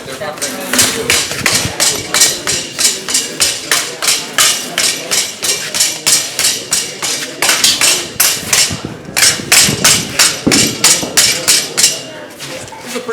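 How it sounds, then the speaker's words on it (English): A heavy hammer strikes metal in a steady rhythm, dozens of sharp, ringing blows close by with a brief pause midway, while someone talks over the pounding. "This is a pretty heavy hammer."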